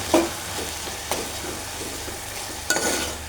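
A spoon stirs chopped tomatoes and coriander in a pan over a low sizzle, with a few scrapes and clinks against the pan, close and fairly quiet with no talking.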